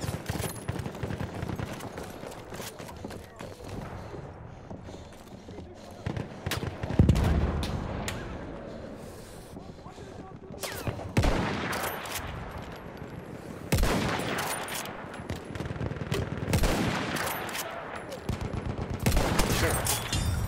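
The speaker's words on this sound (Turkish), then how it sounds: "Orada bir makine tüfek var." Machine gun fire in the video game Battlefield 1, sustained bursts of rapid shots alternating with quieter stretches, some bursts loud and close, with occasional voices under the din.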